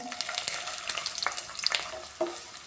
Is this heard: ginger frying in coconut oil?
yes